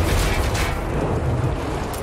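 Naval cannon fire from a ship fleet in the strategy game Anno 1800, heard as a dense, continuous booming rumble of overlapping blasts that stays loud and steady throughout without a clear pause.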